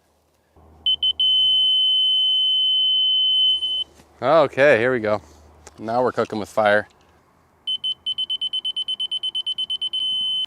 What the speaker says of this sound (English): It beeps faster and then a constant beep when you're perfectly level.